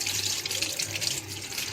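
Cold water runs steadily from a kitchen tap into a sink for nearly two seconds, a continuous close hiss and splash with no talking, while cooking a sugar-free sweet dish.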